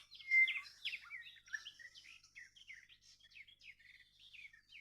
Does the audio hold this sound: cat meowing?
no